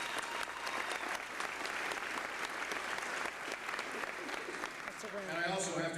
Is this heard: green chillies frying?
no